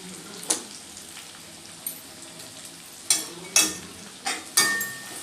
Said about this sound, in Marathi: जी खबर कुटली होती ते आपण आता तळून घेऊया म्हणजे अशा प्रकारे आपली चटणी तळती